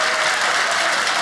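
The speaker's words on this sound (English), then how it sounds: "have everybody join me quickly in a little applause" An audience at a stand-up comedy show applauds for school teachers, a dense, steady wash of many hands clapping at once, loud and continuous for a brief moment.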